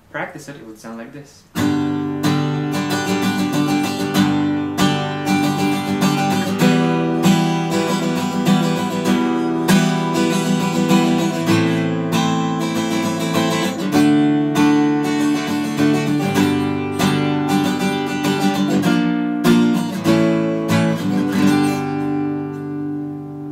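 Fast strummed guitar chords ring out close and loud after a brief quiet start, driving along in a quick, even pattern with no voices.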